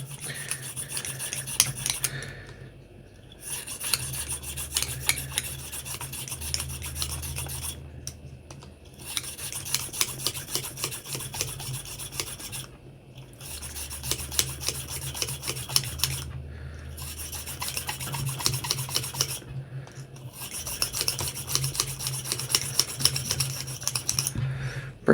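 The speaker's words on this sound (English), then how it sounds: "You can use your barrel brush to get in the cylinder here and give it a nice little scrub down." A barrel brush scrubs inside the cylinder of a Smith and Wesson 686 revolver, making a close, rapid, rasping back-and-forth rub in long runs with a few brief pauses and no talking.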